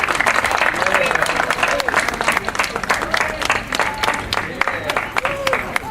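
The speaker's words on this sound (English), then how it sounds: "big round of applause for Sister Omilami" Audience at a mural dedication ceremony applauds steadily, a dense, loud wash of clapping from a crowd that carries through the whole stretch, with voices mixed in.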